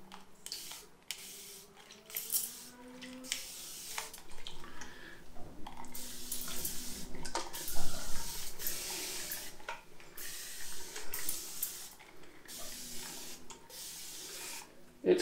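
Short hissing bursts from a water spray bottle repeat irregularly, each a quick fine mist wetting a head before shaving, close and fairly quiet.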